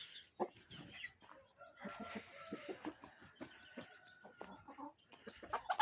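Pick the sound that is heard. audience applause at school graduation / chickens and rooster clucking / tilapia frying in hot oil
chickens and rooster clucking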